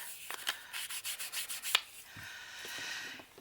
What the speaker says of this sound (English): I didn't re-ink the back, so let's just do that real quick.